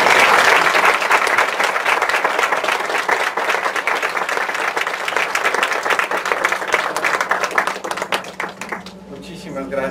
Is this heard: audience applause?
yes